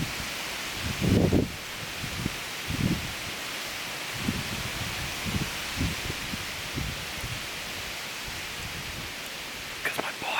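Strong, cold wind rushes steadily through leaves in a broadband roar, with occasional heavier gusts and low thumps.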